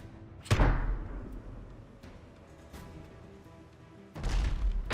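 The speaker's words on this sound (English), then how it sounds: "That was a nice explosion there." Mortar explosions striking a ship in the naval combat game Abandon Ship: two loud, booming impacts with a crashing, decaying rumble, separated by a quieter stretch of ambient noise and small thuds.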